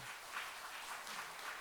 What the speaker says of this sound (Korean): 김용현 집사님, 우리 박수로 환영하겠습니다